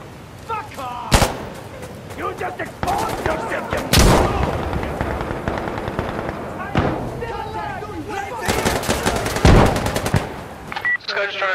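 Heavy .50 caliber machine gun fire and other gunfire crack through an Insurgency: Sandstorm match, with loud close bursts and single shots over battlefield noise while a player talks throughout.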